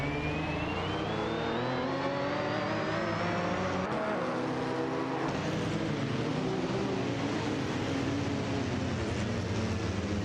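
Race car engines from a racing video game roar steadily, one rising in pitch as it accelerates through the gears, with several cars layered together in a continuous loud drone.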